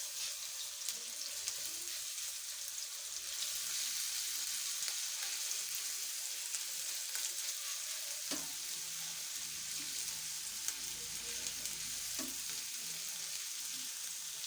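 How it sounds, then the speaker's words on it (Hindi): Steady, faint sizzling of ginger garlic paste frying in oil in a pan, with a couple of soft clinks partway through, no talking. "थोड़ा सा अदरक लहसुन का हम पेस्ट लेंगे, ये भी हम इसके अंदर डाल देंगे।"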